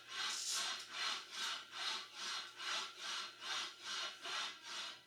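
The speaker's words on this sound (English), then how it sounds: "this just puts a last burnish on all of that dent work I just did" A plastic wheel burnishes the dented slide tubes of an Olds Recording trombone, producing soft rhythmic rubbing strokes, about ten even back-and-forth passes, close and quiet.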